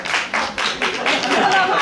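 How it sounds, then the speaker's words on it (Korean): An audience at a musical press call applauds the actors in a short, close burst of clapping, with a voice speaking over it. "박수 한번 받으세요."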